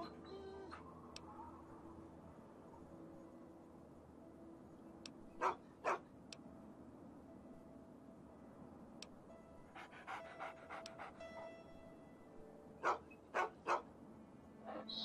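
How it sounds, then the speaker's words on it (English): A dog in the video game Fallout 3 pants steadily throughout, breaking into a few short bark bursts near the middle and several sharper barks toward the end, all at moderate loudness. "Sweet, so now I got a dog."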